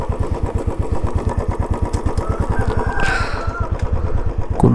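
A motorcycle engine thumps in a fast, steady rhythm on a hill road ride from Manjoor to Kinnakorai near Ooty, loud and close throughout, with a brief rising whine partway through.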